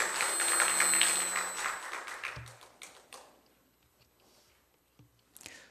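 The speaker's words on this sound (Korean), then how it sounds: "다시 한번 힘있게 박수 한번 할까요?" A church congregation claps together in a sanctuary, the clapping strongest at first, then thinning into a few scattered claps and dying away into near silence.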